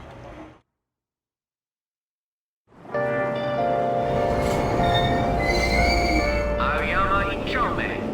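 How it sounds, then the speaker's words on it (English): A train in the video game Persona 5 Royal rumbles loudly along the rails with metallic squeals and tonal whines, starting after a brief pause in which a voice speaks, at Aoyama-Itchome station. "Train doors are now closing. Please stand back."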